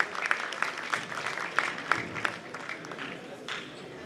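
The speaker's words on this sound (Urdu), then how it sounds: "آپ کی بھرپور تالیوں میں غزالہ انجم." Audience applause at an Urdu poetry gathering as a poet is welcomed to the stage, moderately distant, with steady clapping and crowd murmur.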